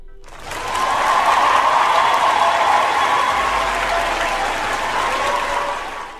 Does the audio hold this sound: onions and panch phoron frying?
no